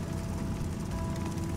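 Mining drill boring through iron ore in the video game Stationeers, a steady rattling, hammering grind with a low rumble and faint tonal hum, continuous and close with no talk over it.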